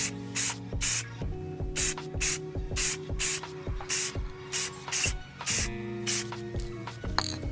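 Rust-Oleum clear coat sprays from an aerosol can in a rapid series of short hissing bursts, each about a third of a second, close and loud, with a faint steady hum underneath.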